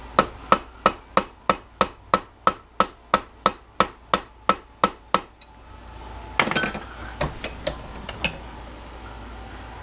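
A hammer taps a Honda ATV brake caliper about fifteen times in a steady, quick metallic rhythm, then a few scattered, irregular clinks and knocks follow, close and fairly loud.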